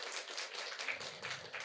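A village women's gathering at a community meeting in Pucung, Giricahyo, Gunung Kidul breaks into steady group applause, dense overlapping claps sustained evenly throughout, close and moderately loud with no voices over it.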